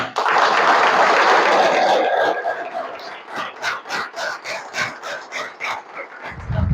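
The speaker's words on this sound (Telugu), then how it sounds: "క్లాప్స్ పెడితే చెప్తా" A crowd claps at a talk, a dense burst of applause for about two seconds that thins into scattered, rhythmic claps before fading.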